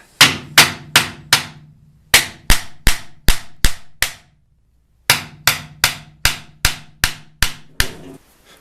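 Sharp hammer taps on a Japanese wooden geta sandal part ring out in quick bursts, about sixteen strikes grouped in three runs separated by short pauses, close and crisp.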